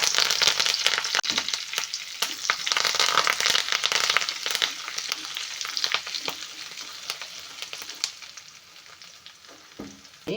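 Urad dal and curry leaves crackle in hot oil for a tempering, a loud, dense spitting sizzle with sharp pops throughout that eases off slightly toward the end.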